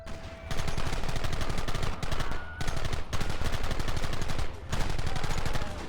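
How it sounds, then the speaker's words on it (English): Sustained gunfire in the western game Red Dead Redemption, rapid overlapping shots forming a dense, loud volley with a few brief pauses. "Open fire!"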